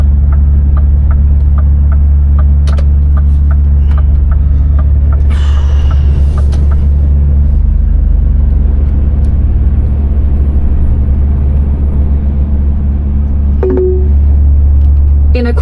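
Steady low engine rumble and hum from inside a truck sitting in traffic among diversions in Hemel Hempstead, loud and constant, with brief clunks and a short hiss partway through and a passing high whine near the end.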